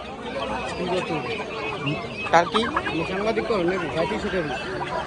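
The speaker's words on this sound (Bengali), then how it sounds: "ছয় কেজি ওজনের টার্কি মুরগি" Turkey hens cluck and chatter at a busy village livestock market, the fowl calls mixed with crowd noise and people talking over them throughout.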